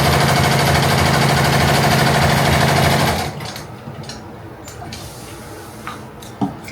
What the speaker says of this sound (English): what I was interested in doing was seeing what does it look like when I'm sewing something up